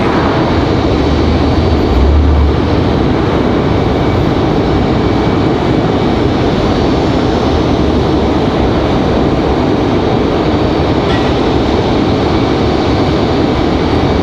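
A Delta airliner arriving from Washington touches down at Raleigh-Durham airport, a loud broad continuous roar of jet engines and rushing air that holds steady throughout, with no voices.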